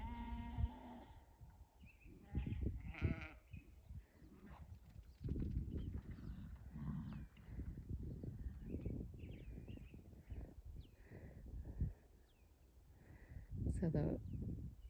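Sheep bleat in short, wavering calls on a farm, several separate cries spread through the clip under and between people talking, with shuffling hooves and horses nearby.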